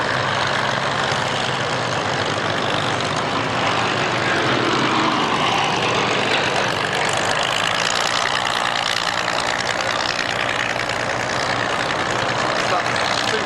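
A vintage aircraft at the Duxford Flying Legends airshow in 1999 makes a final pass, its engine roar broad and constant throughout, with a commentator's voice over it.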